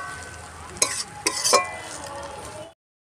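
Potatoes frying in a pan for egg pulao, a constant sizzle with three quick stirring scrapes in the middle, ending abruptly in silence.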